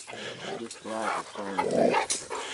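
A dog vocalizes close by with short barks and whiny, growly sounds, mixed with human speech around it.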